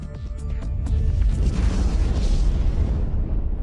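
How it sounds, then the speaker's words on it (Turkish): Deep nuclear-explosion effect: a loud, low rumbling boom that swells within the first second and holds as a continuous roar to the end, with no talk. "Nükleer patlamayı."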